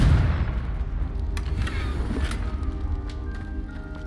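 A Confringo blasting spell in Hogwarts Legacy sets off a deep booming explosion with heavy low rumble and scattered crackling debris, loud at first and then rolling on under a sustained roar.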